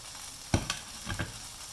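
Cabbage hits a hot wok for Malaysian wet fried flat noodles, kway teow goreng basah, giving short sizzling bursts as it is stirred and tossed, with a few distinct scraping strokes over a low frying hiss.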